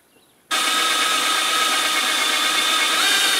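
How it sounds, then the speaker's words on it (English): A power drill bores a hole through a metal mower deck at low speed, starting abruptly after a half-second of quiet and then running as a loud, steady, high-pitched whine to the end. "And this is going to be where I'm drilling."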